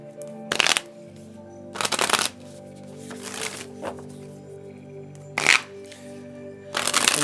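A deck of moon oracle cards is shuffled in several loud riffling bursts, separated by quieter rustling and handling of the cards at close range.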